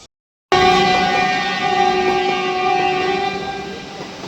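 After a brief silence, a Vande Bharat Express train's horn blares loud and close in one long sustained tone over a rumbling engine.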